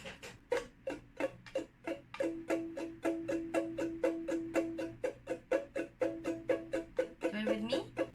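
Ukulele strummed fast with one finger near the sound hole in a flamenco style lesson, a rapid, even run of down-up strokes repeating for about eight seconds, close and moderately quiet, with no talking.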